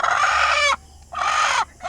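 A large, aggressive broody hen of the Samuasin breed gives loud, close, drawn-out clucking calls in a yard, two long rising-and-falling bursts separated by a short pause, with no talk.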